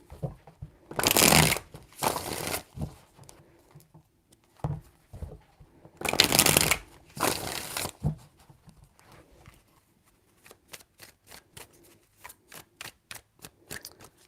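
Tarot cards are riffled and shuffled in a few loud bursts, each separated by short pauses. The shuffling ends in a quick run of light taps as the deck is squared. No one speaks.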